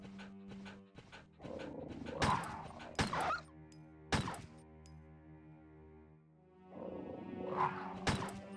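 Zombie dogs in Resident Evil 1 Director's Cut bark in a few sharp, separate yelps and barks spread across the stretch, over a steady low game hum, with no talking.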